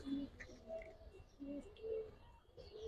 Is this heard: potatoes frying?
no